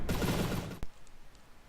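Turret gunfire in the video game From the Depths: a dense burst of rapid cannon fire for most of a second, then one sharp shot and a quieter tail.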